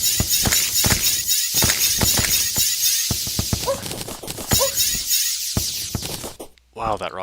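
Sharp, crackling magical blasts from a magic rod in Terraria fire in quick succession, loud and bright, with brief pauses and a few game effects in between.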